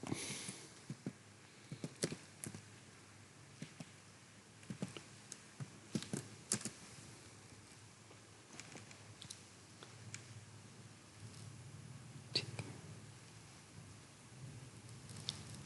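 Fingers type a password on a computer keyboard, producing faint, scattered key taps and short bursts of clicks at close range in a quiet room.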